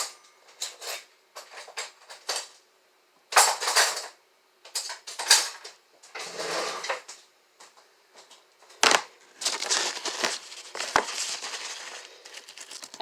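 Kitchen clatter as a can opener and knife are handled: a series of short metallic clinks and knocks, with rattling and crinkling bursts spread across the stretch, close and moderately loud with quiet gaps between.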